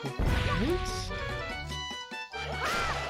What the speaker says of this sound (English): Shattering the barrier